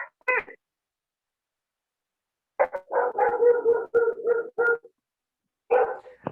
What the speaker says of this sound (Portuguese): Aí está um cachorro latindo.